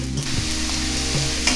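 Garlic and onion fry on a high flame, giving a dense, continuous sizzle with a low hum and a few clicking stirs against the pan.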